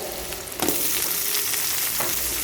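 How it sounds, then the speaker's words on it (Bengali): Oil sizzles and crackles steadily as onions and green chillies fry in a pan, with a couple of louder bursts of hissing as ingredients are stirred. "তারপর ওই তেলে পেঁয়াজ দিয়ে দিলাম কাঁচামরিচ দিয়ে দিলাম"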